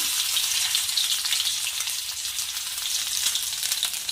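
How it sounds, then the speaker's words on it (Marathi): Cumin seeds fry in hot oil for a coconut amti curry, giving a dense, even hiss and crackle that stays loud and steady throughout, with no voices. "तेल तापलं आहे मोहरी नाही आहे माझ्याकडे जिरं ॲड करत आहे"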